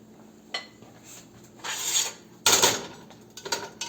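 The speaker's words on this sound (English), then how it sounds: "we're going to put it in the pan with the onions" BBQ meat is dumped into a pan with onions, giving scraping, rubbing and clattering sounds against the pan, with a louder burst of scraping in the middle and smaller taps near the end.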